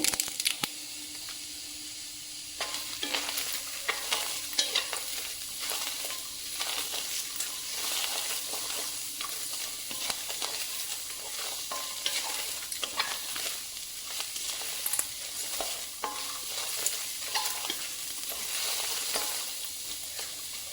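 Onions frying in a pan for a spiced pea and potato curry, with a constant hiss and sizzle broken by the scrape of a spoon stirring them, steady throughout and with no talking.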